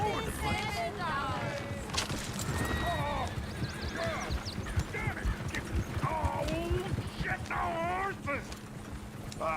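Horse neighs and whinnies from Red Dead Redemption 2 ride over a busy clatter of hooves, with several whinnies repeating near and loud while people talk throughout.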